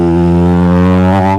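A human voice imitates a passing motorcycle engine with a steady, droning, buzzy hum, loud and close, holding for about a second and a half before trailing off.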